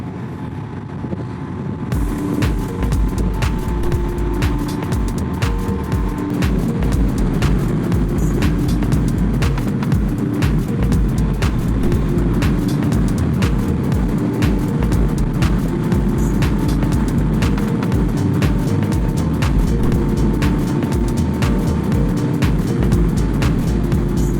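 A Triumph Tiger 1200 motorcycle cruises along Yorkshire Dales roads, its engine droning steadily and loudly throughout, mixed with heavy wind buffeting against the microphone, with no talking.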